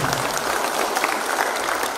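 Applause from an audience at an official government meeting in Indonesia, a continuous rush of many hands clapping at fairly close range, steady with no speech over it.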